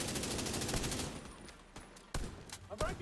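Rapid automatic gunfire in The Division 2 shooter game, a fast burst in the first second, then a quieter stretch followed by several sharp scattered shots.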